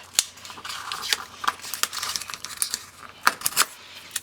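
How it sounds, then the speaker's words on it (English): Paper envelope ends being torn off by hand, heard as a close series of sharp, crackly rips and rustles in quick irregular bursts with no talking. "I think I'm going to tear these ends off"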